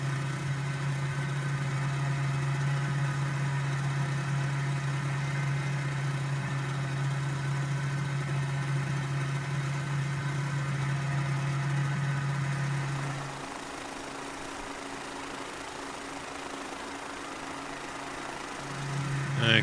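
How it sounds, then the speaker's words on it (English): Mozzie Mk III helicopter in Microsoft Flight Simulator cruising over Chichester, its engine giving a steady, moderately loud droning hum with a constant low tone that eases slightly near the end. "Love the sound of that engine."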